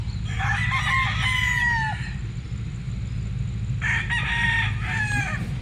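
A Nelson's Gray gamefowl rooster crows twice, each call a long, loud, drawn-out cock-a-doodle-doo, separated by a short pause over a constant low hum.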